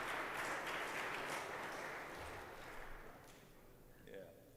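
Applause from a church audience for a volunteer, a dense spread of clapping that thins and fades out over a few seconds, under a faint hum.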